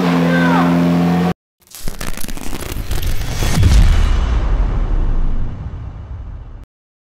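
Nissan GT-R R35 Nismo engine in the FiveM game: after a brief voice and a sharp cut, the engine revs up hard, swelling to a loud booming roar before fading back and stopping.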